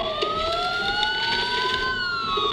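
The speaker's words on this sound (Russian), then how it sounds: "Сирены. Полиция." Police sirens wail continuously with overlapping rising and falling tones, fairly loud and steady, with no talking.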